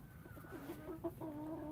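Backyard chickens pecking at a carved pumpkin make soft, low clucks and murmuring calls, with a few brief rising notes, close by and fairly quiet against a steady background.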